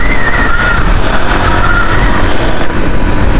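A KPR sports motorcycle engine roars continuously under a steady throttle, very loud and close, with a droning rumble and a slight rise and fall in pitch.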